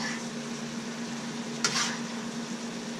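Lo mein noodles sizzle steadily in a hot pan while a utensil stirs them, with one brief sharp scrape partway through the constant frying hiss.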